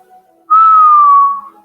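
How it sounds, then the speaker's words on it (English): A person whistles a single clear, sustained note that slides slightly downward, lasting about a second against near silence, close and fairly loud. "Peter whistled."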